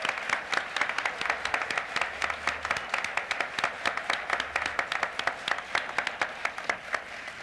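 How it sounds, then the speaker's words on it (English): A banquet hall audience at a 1997 corporate awards dinner gives a round of applause, a dense, steady patter of many hands clapping in quick rhythm throughout, with no voices over it. "Let's give John Deegan and Scott Freefield a round of applause"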